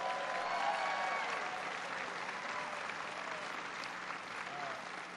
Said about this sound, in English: I want to give him a big round of applause for that introduction